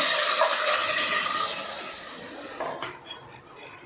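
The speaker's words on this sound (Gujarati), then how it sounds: "પાણી એડ કરી દઈશું" Water pours into a pot of soaked khichdi cooking with garlic and dried fenugreek seeds, a loud rushing gush that fades over a couple of seconds into a few light clinks and splashes.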